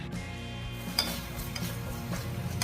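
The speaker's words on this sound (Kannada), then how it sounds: "ಚೆನ್ನಾಗಿ ಫ್ರೈ ಮಾಡಬೇಕು, ಬ್ರೌನ್ ಕಲರ್ ಬರೋವರೆಗೂ ಫ್ರೈ ಮಾಡಬೇಕು." Sliced onions, seven or eight medium ones, frying in about two cups of cooking oil for chicken dum biryani, a steady close sizzle with occasional scrapes and stirring clinks of a utensil against the pot.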